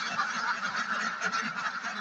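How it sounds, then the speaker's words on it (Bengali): A crowd of domestic ducks shut in their shed keeps up a steady, overlapping din of harsh quacks and honks, close by and unbroken throughout. "আমার হাঁস"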